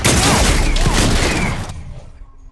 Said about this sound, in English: Oh, you wanna see the best shotgun this game has to offer?